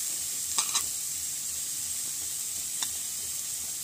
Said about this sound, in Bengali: গাজরটা প্রায় ফ্রাই হয়ে এসছে